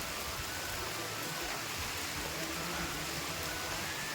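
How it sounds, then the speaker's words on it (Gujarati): Heavy rain pours steadily near the Pandava caves, a dense, even roar of water that holds at the same level throughout with no pauses or breaks. "તો મિત્રો અત્યારે જોરદાર વરસાદ આવે છે"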